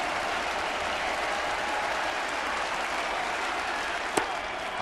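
A baseball crowd on its feet in the ninth inning of a 2012 Red Sox at Blue Jays game in Toronto, loud sustained applause and cheering filling the stadium, with one sharp crack near the end.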